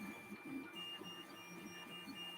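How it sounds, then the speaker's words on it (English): An Anycubic Mega S 3D printer runs loudly and steadily, its stepper motors whirring in a rhythmic pattern with high whining tones that rise and fall as the print head moves, with no voices. "I know I absolutely sound like I'm exaggerating the noise this printer makes"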